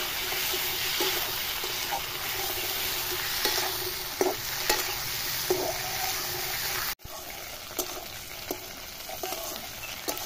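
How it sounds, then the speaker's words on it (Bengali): Potatoes with cumin seeds frying in hot oil in a pan and being stirred, a steady close sizzle broken by scraping knocks of the spoon and a brief cut partway through. "আলুগুলো দিয়ে দিলাম, নেড়ে ছেড়ে নিলাম"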